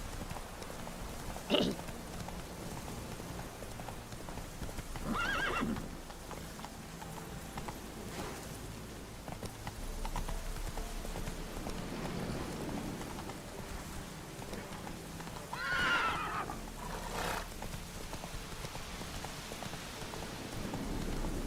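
Roach, the horse in The Witcher 3, gallops through rain, hoofbeats soft and steady beneath falling raindrops, with a few louder knocks and a faint rumble.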